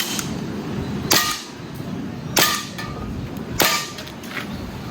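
Airsoft gas blowback toy pistol fired until its ammunition runs out, three sharp separated cracks over a steady background hiss.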